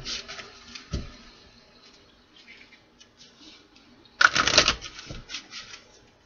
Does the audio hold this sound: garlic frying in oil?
no